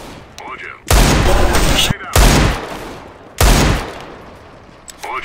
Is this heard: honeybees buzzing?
no